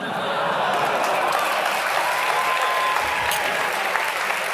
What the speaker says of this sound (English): God, they really applauded that one